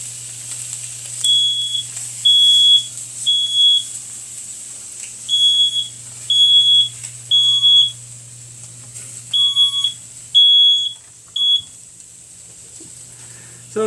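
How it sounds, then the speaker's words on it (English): A kitchen smoke alarm set off by smoke from indoor grills while steaks cook, sounding repeated short high-pitched beeps in uneven bursts over a low steady hum, loud and close. "The smoke alarm's right near the kitchen, so when I start to get things a little smoky with the indoor grills, we start to get that"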